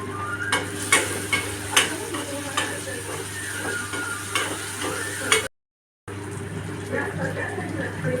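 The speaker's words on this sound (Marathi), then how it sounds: "टोमॅटो नरम झालेला आहे, आता मी थोडीशी आलं लसणाची पेस्ट टाकते।" Ginger garlic paste fries in a pan with softened tomato, a steady sizzle under repeated scraping stirs of a spoon against the pan, with a short silent break near the end.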